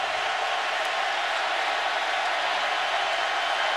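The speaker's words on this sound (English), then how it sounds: "the crowd lets them hear about it" A large football stadium crowd roars at a college game, Florida vs Auburn in 2011, in a steady, dense wash of noise that holds at the same level throughout.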